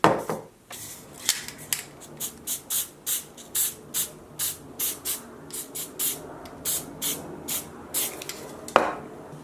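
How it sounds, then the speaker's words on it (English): A spray paint can sprays onto a Quake logo model in a series of short, even hissing bursts, about twenty in a steady rhythm, close and clear with no voices. "So we need a bit of spray paint on this guy."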